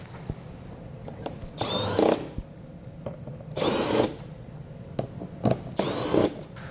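Power tool fitted with a 5.5mm socket spinning out undershield bolts on a 2019 Lincoln during a base plate install, three separate loud whirring bursts of about half a second each, with quieter clicks and handling between them.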